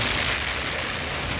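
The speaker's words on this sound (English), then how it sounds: "Good explosion" A movie explosion from the horror film Chopping Mall, a loud sustained roaring blast filling the whole clip, dense and rumbling with no voices over it.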